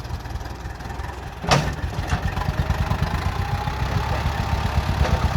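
A farm tractor's engine idles and revs steadily while pushing an overloaded Thai farm truck (e-taen) sunk under a load of cassava, a sharp burst at the start, then a continuous rumbling drone with no talk.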